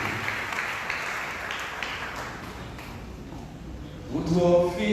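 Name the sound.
church congregation applauding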